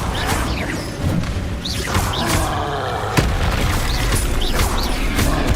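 Spell-casting in a Harry Potter-style video game: repeated booming blasts and crashing impacts from the Bombarda explosion spell, mixed with whooshes across a busy, loud scene.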